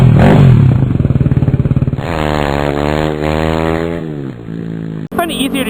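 Yamaha WR250R dual sport motorcycle engine droning loud and close, its pitch sweeping up and down through revs before a brief cut and a sharp clattering burst.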